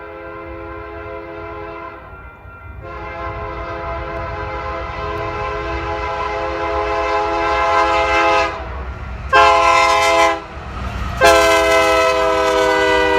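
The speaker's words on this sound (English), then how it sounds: "I had been waiting around 20 minutes when this power move showed up. The move was led by SD70M 4047, trailed by AC44CW 6297 and ET44AC" Union Pacific freight power move led by an SD70M locomotive passing at a milepost in Elkhorn, Nebraska, with a long sustained horn blast followed by two more horn blasts over the steady rumble of the train, loud and close.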